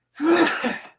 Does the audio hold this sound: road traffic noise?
no